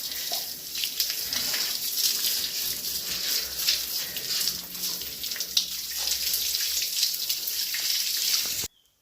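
Water running steadily from a hose or tap to cure the walls of a newly built house in a hill village, a continuous close splashing hiss with no talk, cutting off abruptly near the end.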